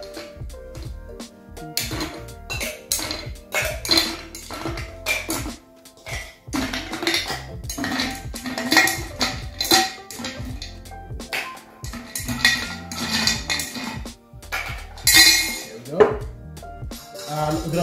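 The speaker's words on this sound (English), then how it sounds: "This is a still drink, so we're gonna add some ice cubes in our tin." Ice cubes added to a cocktail tin at a bar while mixing a sherry drink, a long run of clinking, rattling knocks and clatter, close and busy, with faint voice now and then.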